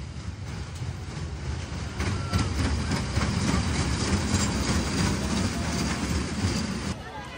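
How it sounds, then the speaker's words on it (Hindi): Rumbling of a small amusement-park ride train approaching at Gulmarg, Kashmir, a steady low engine drone with clatter that grows louder partway through, with crowd noise and voices around it. "अभी ये रेलगाड़ी आ रही है।"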